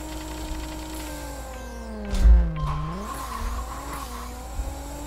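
Lamborghini Gallardo LP 570-4 SL launching in the Racing Rivals drag racing game: a steady engine drone rises and falls through gear changes, with a loud burst and brief tire squeal as the car pulls away, no talking.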